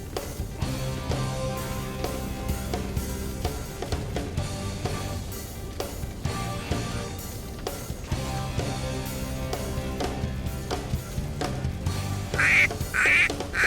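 A little duck quacks in repeated bursts among children's toy trucks and a playful music bed, with the calls loudest near the end.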